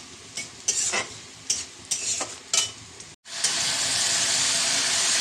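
Sour greens hit hot tempering oil and sizzle loudly after a few short stirring scrapes, then a steady, intense hiss of frying follows.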